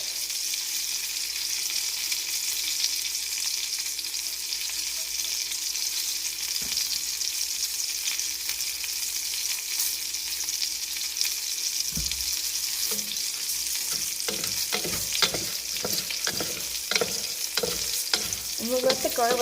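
Chopped garlic and arborio rice frying in oil in a pan for risotto, a steady close sizzle throughout, joined near the end by a quick run of rhythmic scraping stirs.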